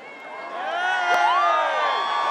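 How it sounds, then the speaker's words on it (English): A large crowd cheers and whoops at the world premiere of The Hobbit in Wellington, a sustained roar of shouting voices that swells and stays loud throughout. "The fantastic crowd."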